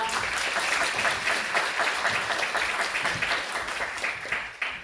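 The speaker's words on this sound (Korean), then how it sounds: "환영의 박수, 큰 박수 부탁드립니다" An audience at an education symposium in Korea applauds to welcome a Seoul National University professor to the stage, a loud, continuous round of clapping from a full hall that gradually tapers off.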